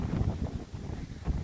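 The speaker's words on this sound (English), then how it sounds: "Very windy today, so hopefully you can hear me." Strong wind buffeting the microphone on an open mountain top in the Roan Highlands, with low, gusty rumbling bursts that rise and fall unevenly and come close and loud.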